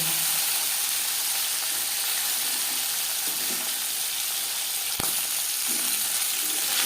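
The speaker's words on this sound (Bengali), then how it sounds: "মাছ হালকা করে ভাজা হয়ে গেছে যেহেতু জ্যান্ত মাছ আমি একটু হালকা করে দিয়ে নিলাম" Pakal fish fry in hot oil in a pan, a steady close sizzle and hiss with one sharp tap partway through and no talking.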